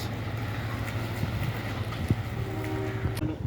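A train pulls into a railway station near Shimoga, giving a low, steady rumble of rolling wagons with faint clanks and a brief horn-like tone toward the end, moderately distant and quiet.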